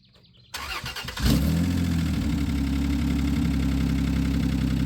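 A rough 3.0 V6 in a 1995 Plymouth Voyager cranks and catches, then settles into a loud, steady, uneven idle with a low rumble and faint knocking, close up with no talk.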